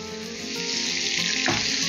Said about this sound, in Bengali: এটাকে ভালোভাবে কষিয়ে নিতে হবে